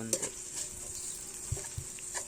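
Onion and garlic sauté in a pan with a steady soft sizzle, punctuated by a few brief stirring clinks and scrapes of a utensil against the cookware.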